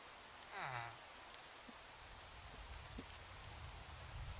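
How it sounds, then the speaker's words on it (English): Light rain sprinkling outdoors, a soft steady patter with scattered faint drop ticks throughout, low and gentle, with a brief murmur near the start. "I guess it's sprinkling?"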